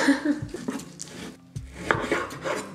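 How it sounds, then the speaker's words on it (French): Meat being chopped by hand for homemade waffle burgers, a few close knocks of the blade against a board, mixed with faint kitchen clatter over a short stretch. "On va aussi hacher en attendant que le pain cuit la viande"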